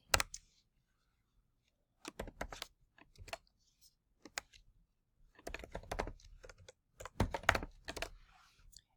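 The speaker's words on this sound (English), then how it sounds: "you can either type in the date or you can choose it from here" Computer keyboard typing as dates are entered into a Microsoft Access table, with short bursts of close, crisp key clicks separated by pauses, and no speech.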